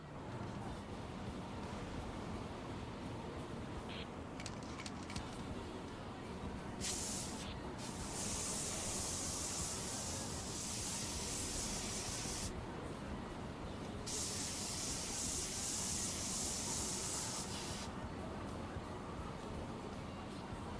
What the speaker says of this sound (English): I think the spray can should work now.